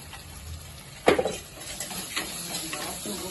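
Curry leaves fry in hot oil as salt is stirred in, giving a soft sizzle with a sharp spoon-on-pan scrape and a few clinks, close and fairly quiet.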